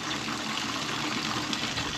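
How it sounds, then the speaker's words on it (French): Water runs steadily from a small tap in a camper van, a continuous, even hiss and splash heard up close with no talking. "Et là, le petit robinet."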